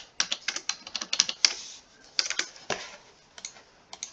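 A computer keyboard is typed on in quick, irregular bursts of crisp clicks, close and alone, with short pauses between runs of keystrokes, while Java code is entered.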